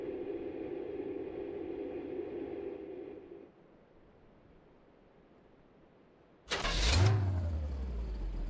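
A car in the game My Winter Car runs with a steady engine drone that cuts out into quiet. The engine then cranks, catches and revs loudly before settling back to a running hum.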